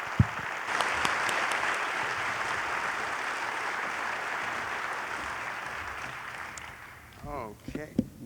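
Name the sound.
audience applause for speaker Doug Kelbaugh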